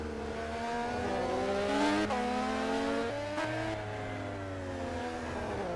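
Race cars howling along the main straight in the Simraceway racing game, a steady sustained engine drone with rising and falling pitch as cars pass, loud and continuous with no voices.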